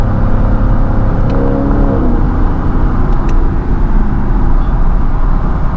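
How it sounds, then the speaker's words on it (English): Lexus LC 500 V8 blipping its throttle on a downshift, a quick rising rev over a constant loud engine and road drone, heard from inside the car. "The downshifts in this car are just amazing."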